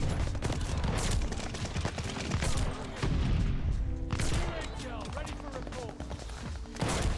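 Kar98k rifle fire in the Call of Duty Vanguard video game comes as dense, overlapping shots and booms amid constant battle noise, fairly faint in the mix.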